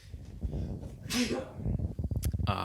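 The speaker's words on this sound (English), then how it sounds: "I need to sneeze." A single sneeze bursts out, close and loud, between stretches of casual talking.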